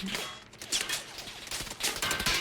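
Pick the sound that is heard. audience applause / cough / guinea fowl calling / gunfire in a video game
gunfire in a video game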